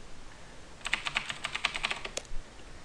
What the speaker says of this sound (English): you probably heard that because my keyboard is loud as hell